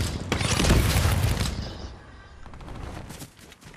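Gunfire in the video game Fortnite: a dense, loud burst of rapid shots for the first second and a half, then quieter, scattered rattling and mechanical clicks trailing off.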